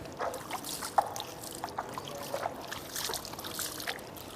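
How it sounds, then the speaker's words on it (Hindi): Water poured over feet during Islamic ablution, splashing and trickling in uneven bursts, close by, with small drips and pours over a steady wet background. "आप पानी लें और इस तरह पानी डालते जाएं"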